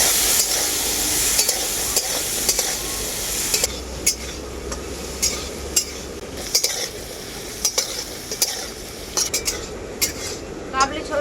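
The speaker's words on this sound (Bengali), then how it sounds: "খুব ভালো করে ছোলাগুলো আমি ভেজে নেবো" Chickpeas frying in oil with salt and turmeric, a steady sizzle under repeated scraping and stirring of a metal spatula against the pan, with sharp clinks throughout and no talk.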